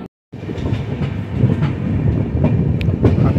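Passenger train 18520 from Lokmanya Tilak Terminus to Pithapur runs on its rails with a loud, steady rumble and faint rhythmic wheel clicks, heard from on board after a brief silent gap at the start.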